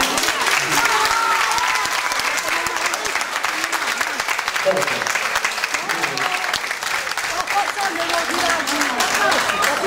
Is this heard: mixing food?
no